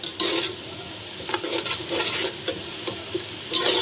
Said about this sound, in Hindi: इसमें कड़कड़ा गया है गर्म मसाला